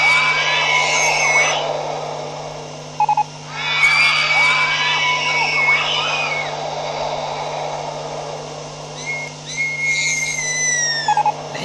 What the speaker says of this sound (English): I hate the screechiness of the screams